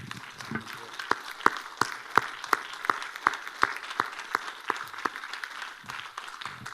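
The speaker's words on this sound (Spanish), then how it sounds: "¿Le puedo dar un fuerte aplauso al Señor?" A church congregation claps for the Lord in a quick, moderately loud burst of sharp, evenly spaced hand claps, nearly in unison, in a reverberant worship hall.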